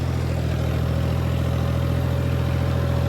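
A tractor engine pulling a heavy cultivator load gives a steady, even low mechanical hum throughout, with no noticeable change in speed.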